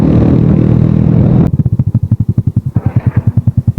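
Suzuki Smash 115 motorcycle engine, first a loud, dense steady roar that abruptly drops to a close, lumpy idle with distinct rhythmic chugging firing pulses.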